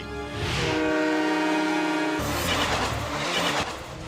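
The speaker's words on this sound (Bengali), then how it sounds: "ওরা ট্রেনে করে যাচ্ছে" A loud train rushes past with a steady rumble and a sustained horn-like tone, then gives way to a noisy broadband roar.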